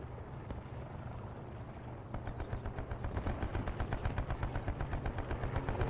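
Gunfire in the video game Black Ops 4, with a rumbling engine drone at first, then a rapid, evenly spaced burst of automatic shots that keeps going to the end at moderate distance.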